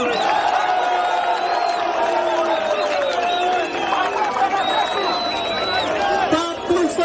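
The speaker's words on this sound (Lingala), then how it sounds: "Applaudissez pour vous-même." Rally crowd roaring and cheering with whistles and whoops, a dense continuous wall of many voices sustained throughout, slightly dipping midway before surging again.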